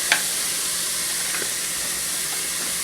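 Ground hamburger meat and onions sizzle in a pan, a steady soft frying hiss with a brief clatter at the start and faint crackles scattered through.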